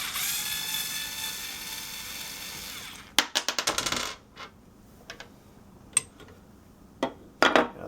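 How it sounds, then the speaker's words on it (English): A screw is worked out of an old double-barreled shotgun, with a short run of quick metallic ratcheting clicks, then scattered sharp metal taps and clinks after a fading hiss. "First thing we're going to do is remove this screw, take the foregrip and the barrels off"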